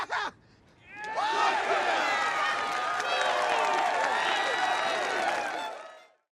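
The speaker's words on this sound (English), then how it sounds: "The rest of the crowd begins to cheer, and Homelander smiles" A large crowd erupts into cheering and shouting after a brief pause, many voices whooping and yelling together at full volume before cutting off abruptly.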